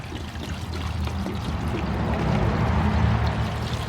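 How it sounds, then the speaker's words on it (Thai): Oil is poured to soak gun parts during cleaning, a steady close liquid pour with low gurgling that swells slightly midway. "ผมจะทำการ เทน้ำมันไปนะครับ"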